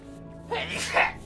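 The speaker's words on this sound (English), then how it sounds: "I think I'm going to sneeze" A single sneeze from a man, short and sharp, rising out of near silence with a faint breathy lead-in.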